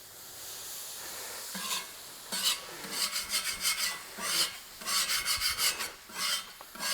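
Rust is scrubbed off a cast iron plancha griddle in bursts of rough, rasping strokes, irregular and close, rising and falling in rhythm against a quiet background.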